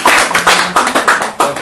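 Small audience applauding at an indoor gathering with live music, a short burst of loud, close hand claps in uneven clusters lasting under two seconds, no voices.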